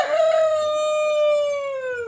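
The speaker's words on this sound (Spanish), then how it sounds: "Nunca vi a un gallo cantando de tarde." A rooster crows once in the afternoon, a single close, loud, sustained call held for about two seconds and trailing off at the end.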